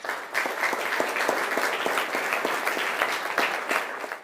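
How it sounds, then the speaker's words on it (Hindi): A school audience at M.D. Sr. Sec. School claps loudly to welcome panelists for a discussion on higher education: dense, sustained applause from many hands, close and even throughout. "तो एक बार जोरदार तालियों से सबसे पहले सबका स्वागत कर लेते हैं"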